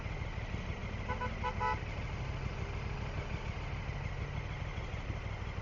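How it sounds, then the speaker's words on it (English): A vehicle horn in city traffic gives a few quick, faint beeps in the distance, heard from a motorcycle over the low rumble of engines and road noise. "don't know if that beeping was for me or for someone else"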